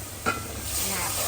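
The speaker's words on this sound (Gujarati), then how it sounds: "આ છે દાળનો વઘાર." Dal being tempered in a hot pan for a Gujarati dal dhokli recipe, a short stir-like burst followed by a steady close sizzle of frying spices that holds for the rest of the moment, with no voices.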